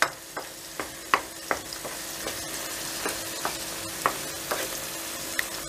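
Sucuk and eggs sizzle steadily in a pan while a spoon stirs and taps against it, sharp clinks recurring every half second or so over the constant frying hiss.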